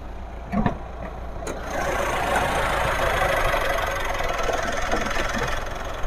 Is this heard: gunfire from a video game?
no